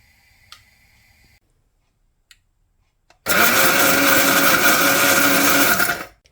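Roasted kebab meat and spices whirring loudly in an electric grinder for about three seconds after a few faint clicks and taps, the motor spinning down to a stop.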